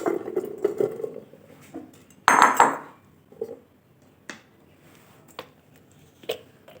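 Olives and potatoes dropped into a pressure cooker, a handful of sharp clattering knocks with one louder metallic clang, then scattered lighter taps and pauses.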